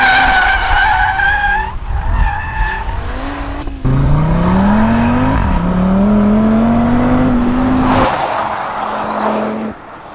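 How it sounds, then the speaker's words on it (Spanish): A Cupra Formentor VZ5 drifts on a circuit, its tires squealing in long loud wavering skids, the pitch sliding and breaking several times, with engine noise beneath and no talk. "cuando le pides que derrape, derrapará"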